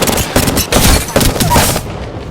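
Rapid bursts of automatic gunfire from Apex Legends on PS5, loud and close, with sharp repeated volleys and booms through most of the stretch before fading near the end.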